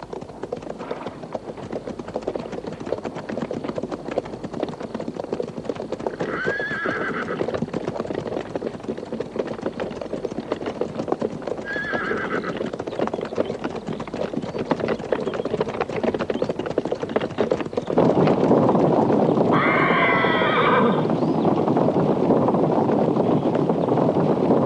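A herd of wild horses gallops through a canyon in an Old West setting, a dense, continuous rumble of hooves mixed with wind that swells noticeably louder toward the end.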